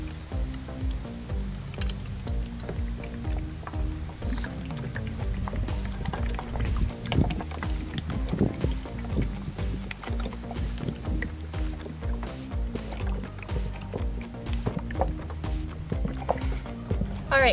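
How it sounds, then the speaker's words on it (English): Vegetable oil glugging steadily from a container into an empty 2-liter plastic bottle, a continuous liquid pour with faint background music underneath. "pour your vegetable oil into your empty 2-liter pot bottle"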